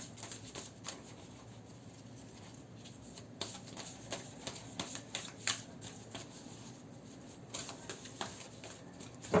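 Tarot cards are shuffled by hand close up, giving quiet, irregular riffling and soft card-on-card taps and flicks over a low room hiss.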